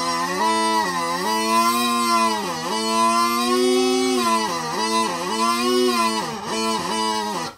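Mouth-blown smallpipes sound a continuous reedy drone and chanter melody, the pitch sagging and wavering repeatedly because the bag pressure is uneven, close and fairly loud.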